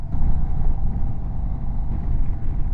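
A 2025 Indian Sport Chief RT motorcycle riding through slow Daytona Bike Week traffic, a loud close steady engine rumble with low throbbing exhaust and wind noise, continuous with no talk.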